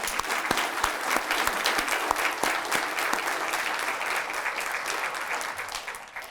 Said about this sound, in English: Let's give Dow a round of applause